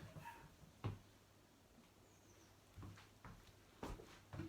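A small dog barks in short sharp bursts at neighbours, a few separate yaps spread across the clip, moderately near against a quiet garden background.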